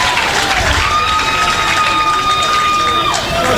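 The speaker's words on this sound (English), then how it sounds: "Eagle crowd starting to get into it here at Hitchcock Field" A baseball crowd at Hitchcock Field cheers during an NCAA regional game, a dense continuous roar of voices with clapping and a sustained whistle, loud and steady throughout.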